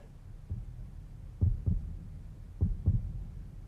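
Heartbeat sound effect from the video game 428 Shibuya Scramble, with deep muffled double thumps repeating in a slow, steady rhythm over a low hum.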